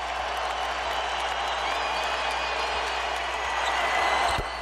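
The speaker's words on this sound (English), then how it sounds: "Crowd's on its feet for a career high for Kobe." An arena crowd at a 2006 Lakers home game against the Toronto Raptors roars and applauds for Kobe Bryant's career high, a dense, steady wall of cheering that swells slightly near the end.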